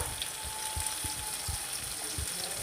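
Tamarind, coriander seeds, rock salt and cumin sizzle in hot oil for a tomato and pandu mirchi pachadi, a steady close hiss with low soft bumps from stirring and no voices.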